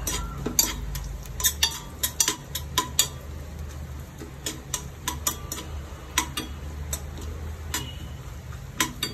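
Chopped coconut being roasted in a pan, with repeated sharp clicks of a spoon scraping and stirring in an irregular rhythm over a low steady background, and no talking.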